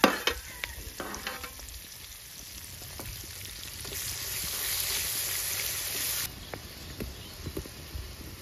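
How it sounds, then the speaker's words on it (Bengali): Chopped onion and green chili hit hot tempering oil with cumin seeds, giving a steady frying sizzle that swells louder midway, with scattered scrapes and clinks of a spatula stirring in the pan. "এখন দেবো পেঁয়াজ আর কাঁচা লঙ্কা একসঙ্গে।"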